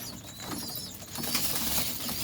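Pet pigeons feeding on wheat grain at night give soft, close coos and brief wing flutters over a faint, steady background hiss.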